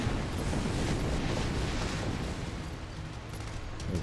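Missile blasts in the Sand Land desert video game, a dense continuous rumble of booming explosions running together throughout at steady loudness, with a slight swell at the end.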